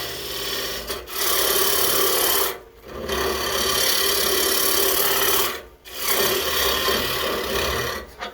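A powered carving tool hollows out a maple wood kuksa cup with long, loud, grinding rasps, four sustained passes broken by short gaps, close up and without talking.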